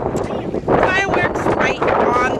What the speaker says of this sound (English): I'm sorry, it's very windy.